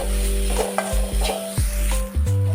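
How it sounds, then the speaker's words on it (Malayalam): Something being sautéed on low flame in a pan while cooking cherupayar thoran, a soft steady sizzle broken by scraping stirs, with a low hum running underneath and no voices. "ഇത് നന്നായി ഒന്ന് വഴറ്റിയെടുക്കാം അതിൻ്റെ പച്ച വാസന മാറുന്നത് വരെ വഴറ്റി കൊടുക്കാം ലോ ഫ്ലെയിമിൽ വേണം ഇത് ചെയ്യണം"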